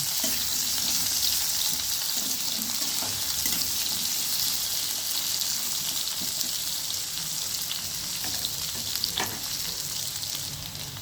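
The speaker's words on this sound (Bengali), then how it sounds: "আলুগুলোকেও আমি ভালো করে ভেজে নেব" Potatoes sizzle steadily in hot oil, a loud, close crackling hiss with occasional stirring clatter and no talking.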